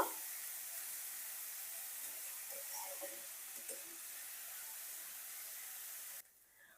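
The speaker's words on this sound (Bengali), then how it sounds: "উচ্ছেটা এখন হালকা করে ভেজে নেব" Bitter gourd frying lightly in oil with five-spice, a soft steady hiss of sizzling oil with a few faint stirring clicks, close but quiet, cutting off near the end.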